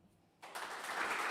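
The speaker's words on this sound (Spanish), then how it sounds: "Fuerte el aplauso" An audience breaks into applause after a talk by a labour lawyer, starting abruptly from near silence and swelling into steady, building clapping.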